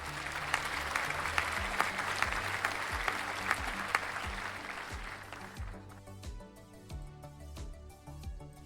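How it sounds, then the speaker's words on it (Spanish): An audience at a song-contest semifinal applauds, a full, even wash of clapping that fades out partway through as music with a steady beat continues on its own. "Un aplausito."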